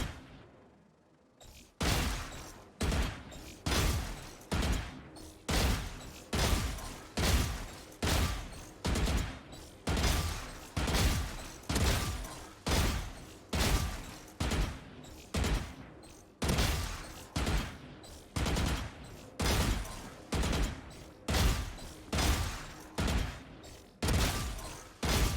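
Rapid gunfire from an aim-training shooting video game, with a steady run of sharp, evenly spaced shots about one per second for the whole stretch, loud and close, with no talking over it.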